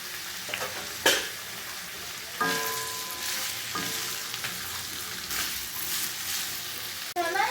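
Onions and chopped yellow bell pepper fry lightly in a pan for restaurant-style Chinese beef chilli, with a steady sizzle broken by several sharp spatula scrapes and ringing metallic clinks against the pan.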